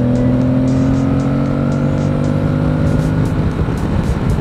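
An Aprilia Tuareg 660 motorcycle engine pulls hard in fifth gear, a steady loud drone with rising harmonic tones and continuous wind rush, close and unbroken with no talking.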